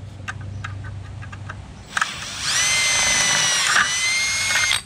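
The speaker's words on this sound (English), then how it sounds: "Drill that to 3/16." Power drill boring a 3/16-inch hole during a transmission shift kit install on a 1969 Dodge Dart 904/727 automatic, a steady high whine running about three seconds after a few short clicks, close and loud with no talk.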